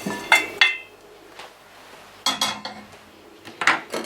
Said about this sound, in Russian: И добавляем сюда мясо.